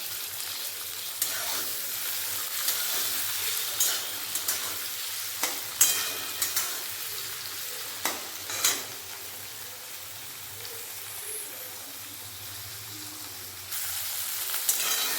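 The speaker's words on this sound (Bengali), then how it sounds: "গাজর হালকা করে ভাজা হয়ে গেছে এর সাথে দিয়ে দেবো একটা টমেটো কুচি আর একটা ক্যাপসিকাম" Carrots, chopped tomato and capsicum frying in a pan, a continuous soft sizzle with occasional sharp clicks and scrapes of stirring, steady and close throughout, no voices.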